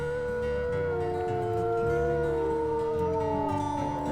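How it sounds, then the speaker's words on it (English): Several wolves howl together in the video game WolfQuest, overlapping drawn-out tonal cries rising and falling in a sustained chorus over a low rumbling background, with no talk. "Oh wow, I hear a lot of howling now."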